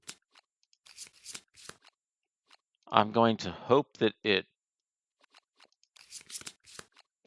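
A deck of game cards being shuffled for a Kingdom Death Monster board game session, a short burst of crisp riffling flutters in the middle, with quiet spoken words before and after.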